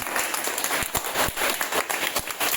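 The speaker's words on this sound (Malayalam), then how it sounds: "ഞാൻ ഇതിലേക്ക് ഒന്ന് കൈയടിച്ചേ" A school audience claps for an MLA at the inauguration of a new classroom building at a government lower primary school in Kerala, a steady, moderately loud wash of applause with a few sharper individual claps standing out.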